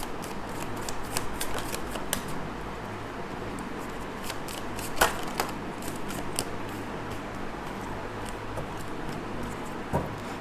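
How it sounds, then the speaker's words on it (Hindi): A deck of tarot cards is shuffled by hand, producing quiet, close papery riffles and scattered soft snaps and ticks over a faint steady room hiss. "सो पहले मैं कार्ड्स निकाल लूँ"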